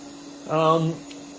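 An OptiMax UV sanitizing robot vacuum runs indoors with a steady low motor hum, and a brief louder whine swells for about half a second before settling back.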